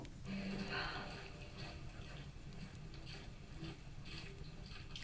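Rhythmic raspy breathing, like panting during a walk along a levada in Madeira, repeats in steady rough pulses close by under a constant low background hiss, with no talking.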